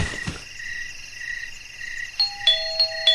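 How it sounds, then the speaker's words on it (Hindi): A cartoon doorbell sounds near the end with a couple of clear electronic ding-dong tones, preceded by a soft chirping, croaking ambience and a short thud at the start. "मेरी डोरबेल बजाते ही स्वीटी ने घर का दरवाजा खोला"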